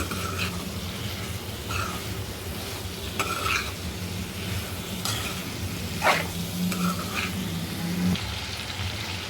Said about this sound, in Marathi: आपण यात ही शेवग्याची शेंग घालूया ती पण मस्त एकजीव करून घेऊया